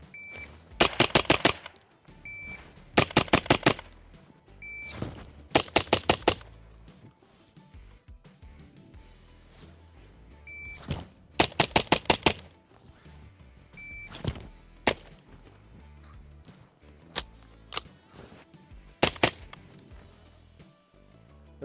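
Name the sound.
suppressed Radian Model 1 AR-15 rifle gunfire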